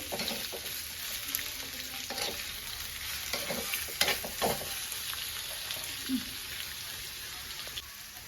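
Onions sauté in hot coconut oil for a squid curry, giving a constant crackling sizzle with repeated scraping stirs and light taps of a spoon in the pan.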